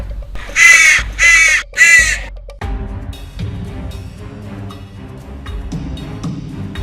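A crow gives three loud, harsh caws in quick succession, close by, before a soft musical accompaniment takes over.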